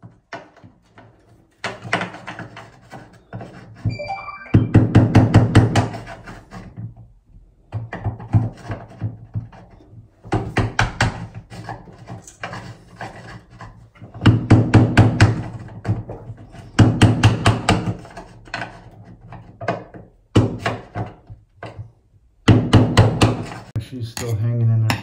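A hammer strikes a flathead screwdriver wedged against a broken shower arm stuck in the wall, giving clusters of sharp metallic taps and scraping knocks in uneven bursts with pauses between them, fairly close and loud.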